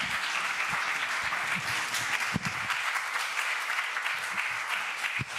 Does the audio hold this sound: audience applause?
yes